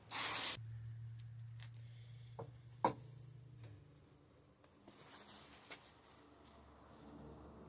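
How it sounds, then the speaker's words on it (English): An aerosol can sprays paint onto a 3D printed medieval sword blade in one short, loud hiss at the start, followed by quiet handling clicks, taps and faint rustles. "I'm going to commit and I'm just going to spray this as well"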